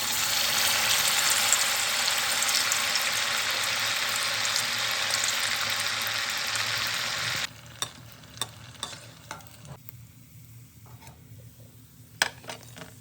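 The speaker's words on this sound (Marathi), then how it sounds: "चला आता आपण हे वडे तळून घेऊया" Sabudana vadas fry in hot oil with a dense, steady close sizzle that suddenly drops to a quieter bubbling with scattered clicks and taps, and nobody talks.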